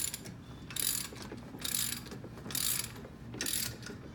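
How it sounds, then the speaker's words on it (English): A crescent wrench is torqued down onto the nut at the bottom of an IV base, producing four evenly spaced bursts of scraping, ratcheting metal at a steady rhythm, close and moderately quiet. "I then take my crescent wrench on the bottom and secure it to the nut, and then I just torque it down."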